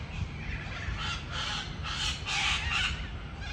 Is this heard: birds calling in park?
yes